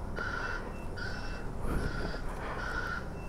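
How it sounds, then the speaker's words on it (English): A vehicle backup alert heard from a 2022 Yamaha Zuma 125 scooter on a commute, giving four evenly spaced, odd croaky chirping beeps over steady road and engine noise. "That's a weird backup alert."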